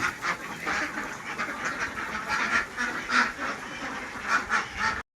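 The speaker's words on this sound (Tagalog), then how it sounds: "Puro itik naman yun." Domestic ducks quacking at a rural resort, a steady chorus of overlapping nasal calls from a flock at close to middle distance, continuous through the whole stretch.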